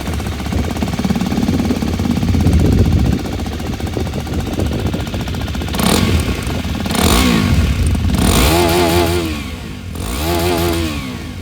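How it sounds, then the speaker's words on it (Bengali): A 2025 Hero Xpulse 210 motorcycle with a redesigned exhaust fitted with a metallic cover, its engine idling with a rough clattering note and then revved several times in short rising bursts, loud and close, with no voices. "চলুন তবে এবার যে এক্সপালসের সেটার আওয়াজ শুনে দিয়ে"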